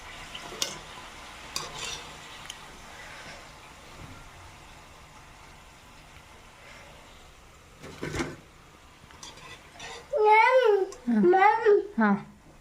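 Gulgule, sweet fritters, sizzle in hot oil with a steady low frying hiss and occasional stirring clinks, while a voice chatters loudly near the end.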